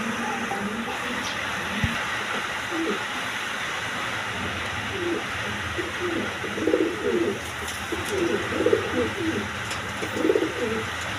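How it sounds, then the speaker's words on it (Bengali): Pigeons coo in repeated low, throaty bursts, including a single male beauty pigeon among breeding birds kept for eggs and chicks, growing more frequent in the second half over a steady background hum. "এখানে একটা সিঙ্গেল বিউটি নর কবুতর আছে"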